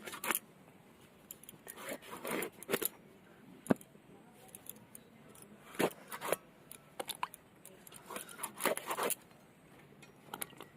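An eggplant being cut with a blade in a home kitchen during Bengali cooking: quiet, irregular slicing and scraping strokes, some in quick clusters, with no talking.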